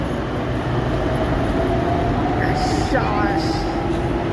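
A Pune metro train departing a PCMC station platform rumbles steadily up close, with a faint rising whine and a brief metallic squeal partway through.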